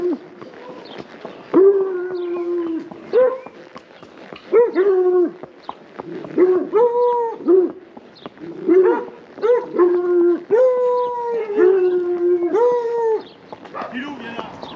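Several big dogs howling and barking in the countryside, long wavering howls repeating in overlapping waves with yips and barks between, fairly close and loud throughout.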